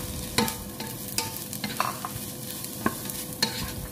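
Chopped red onion being sautéed with eggplant and cherry tomatoes in a pan, with a soft steady sizzle under repeated scrapes and clacks from stirring, close by.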